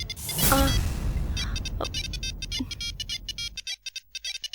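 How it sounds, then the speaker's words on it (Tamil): A mobile phone ringtone plays loud and close, a bright repeating melodic pattern that starts over a burst of background noise and then continues alone in regular pulses. "உன் செல்போன் ரிங் ஆகுது"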